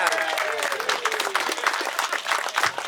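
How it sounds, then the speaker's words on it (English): A crowd gives a round of applause for a bingo winner at a spring car show gathering, steady dense clapping lasting throughout, with a faint voice passing briefly over it early on. "How about a round of applause for Tally?"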